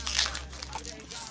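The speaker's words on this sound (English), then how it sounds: "So I got some wallpaper from Amazon that I'm opening up right now." Crinkling and tearing of plastic packaging as a wallpaper package is opened by hand indoors, a close, busy rustle with soft crunches and a voice faintly in the background.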